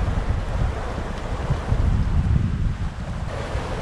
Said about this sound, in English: Later in the afternoon, the wind picked up. It's touching 18, 20 knots. The waves are bigger and they are certainly throwing us around.